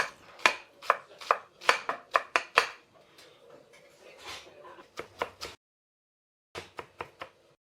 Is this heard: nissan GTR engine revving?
no